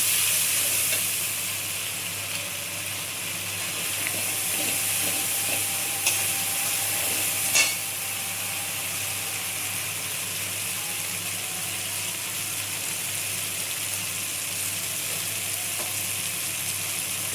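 Dal (lentils) hits hot oil spiced with ginger, turmeric and cumin, giving a steady, close sizzle that runs throughout, with a few scraping clatters of stirring partway in and no talk.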